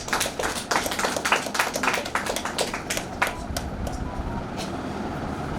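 A crowd claps in a dense burst of overlapping hand claps at a JCI Ongole meeting, gradually thinning, with a steady background rumble underneath.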